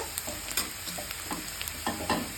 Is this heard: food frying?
yes